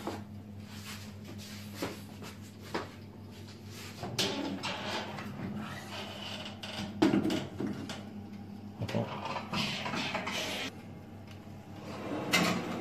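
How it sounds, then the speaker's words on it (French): An oven door is handled and closed on a galette des rois going in to bake at 180 degrees, giving clattering slides and knocks over a constant fan-like hum in a kitchen. "on va la mettre dans le four pour une durée de 30 minutes sur 180 degrés"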